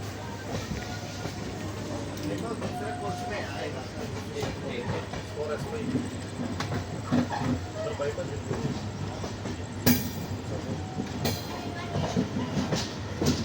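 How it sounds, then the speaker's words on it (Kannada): An SSS Hubballi weekly superfast express pulls into Palakkad station in Kerala, its steady rolling rumble and wheel clatter filling the platform with a constant mid-loud roar, with voices faintly mixed in. "ಇಷ್ಟೊತ್ತು 45 ನಿಮಿಷ ಡಿಲೇ ಇದ್ದಿದ್ದು ಗಾಡಿ ಆನ್ ಟೈಮ್ ಅರೈವಲ್ ಪಾಲಕ್ಕಾಡಿಗೆ"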